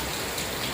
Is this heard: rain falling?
yes